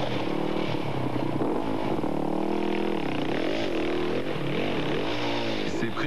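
Enduro motorcycle engine at full throttle during the Enduro Corsica Sardaigna race, a loud, continuous buzzing drone whose pitch rises and falls with the revs. A commentator talks over it throughout.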